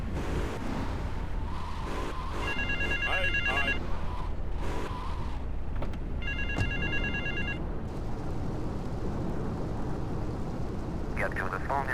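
A telephone rings in Grand Theft Auto III: two clear bursts of bell ringing, then a brief third, over a steady hum of city traffic.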